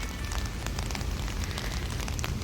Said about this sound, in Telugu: వర్షం స్టార్ట్ అయింది, బాగా గట్టిగానే పడుతుంది వర్షము.